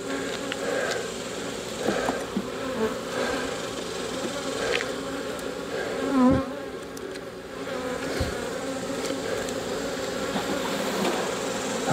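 Honey bees buzz steadily during a frame inspection of a corner hive, a dense close drone of many insects with occasional individual bees flying past.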